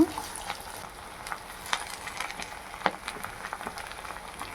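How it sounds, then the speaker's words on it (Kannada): Curry leaves fry in hot oil with softened onions, giving a steady close sizzle with scattered crackles and small pops throughout. "ಈಗ ಸ್ವಲ್ಪ ಕರಿಬೇವು ಸೊಪ್ಪು ಹಾಕ್ಕೊಳ್ಳೋದ"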